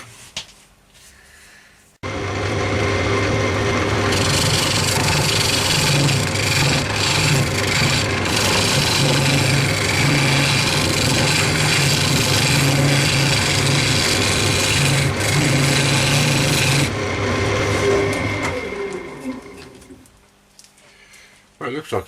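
A small 10mm round-head carbide scraper cuts a yew and walnut vessel on a spinning wood lathe, giving a steady, loud scraping rasp that runs for about fifteen seconds before the lathe winds down.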